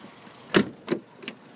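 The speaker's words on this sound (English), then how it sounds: "And it's locked in typical Ford fashion." Three quick mechanical clunks of Ford car door locks engaging, the first loudest, close by in a quiet setting.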